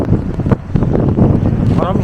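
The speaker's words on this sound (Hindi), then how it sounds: "बहुत तेज़ हवा चल रही है गौरीकुंड में।" Strong, gusty wind roars against the microphone at Gaurikund, a loud, continuous buffeting blast with rough surges and no break.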